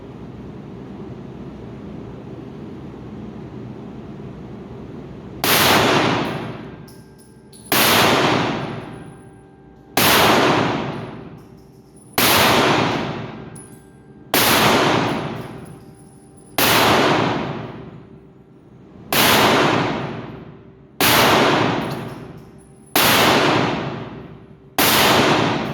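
Ten sharp gunshots from a Canik Mete pistol fired at targets, each a loud crack with a decaying ring, spaced about two seconds apart after a stretch of quiet outdoor hum.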